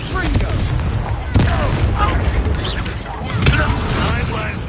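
A spell blast in a video game, heavy booming impacts, two strong bursts standing out against a dense, continuous roar of combat noise, with character voices speaking over the action.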